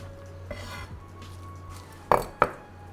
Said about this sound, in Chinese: 我们就要切这个韭菜，先把它切成一半